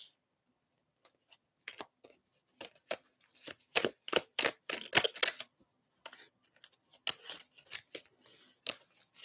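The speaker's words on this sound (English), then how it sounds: "Shuffling to see if I get anything else for you." Tarot cards being shuffled by hand, with bursts of quick riffling flicks and soft slaps that come in two loose runs separated by short pauses, close and moderately loud.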